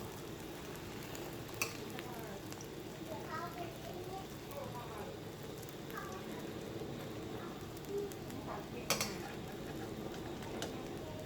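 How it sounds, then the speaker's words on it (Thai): Eggs fry in a pan with a continuous crackling sizzle and occasional ticks and pops, while someone talks over the cooking throughout. "พ่อทอดไข่อยู่ลูก"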